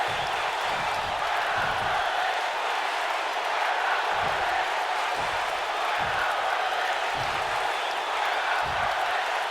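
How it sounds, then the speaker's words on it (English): A wrestling arena crowd chants "We're not worthy" in steady rhythmic bursts, a dense roar of many voices filling the space with repeated thumping pulses over a constant loud crowd din. "Crowd chanting, "We're not worthy," it sounds like."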